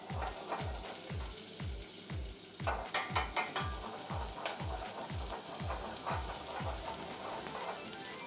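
Spring onions and garlic fry in very hot oil in a restaurant kitchen pan. A constant sizzle runs under a regular low rhythmic thumping, and a brief cluster of sharp clatters sounds near the middle.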